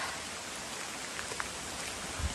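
Steady, soft rain hisses evenly without pause at Mahuli Fort, Shahapur, with no voices and only a faint low thump near the end.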